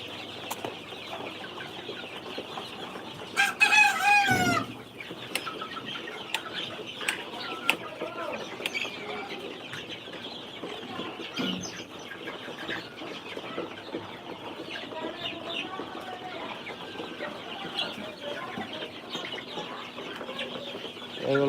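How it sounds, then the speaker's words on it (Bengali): Tiger breed chicks cluck and chatter steadily at close distance on a poultry farm, with a brief burst of flapping wings early on and a continuous farmyard background. "এগুলো হচ্ছে যে অরিজিনাল টাইগার মুরগির বাচ্চা যে এখানে দেখতে পাচ্ছেন"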